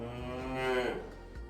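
A single drawn-out cow moo from the business simulation game Capitalism Plus, a low, tonal bellow that swells and then fades, heard clearly on its own.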